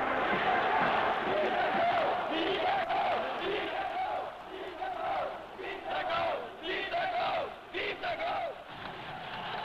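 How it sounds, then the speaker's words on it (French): Large outdoor crowd in Quebec in 1967, with many RIN separatists, booing the national anthem during General de Gaulle's visit; a loud, sustained roar of jeering voices with rising and falling swells throughout. "la foule donc s'est mise à huer l'hymne national"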